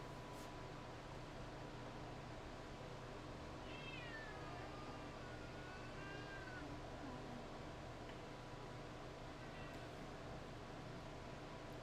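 A cat meows a few times, soft and drawn out, over a steady hum of background noise.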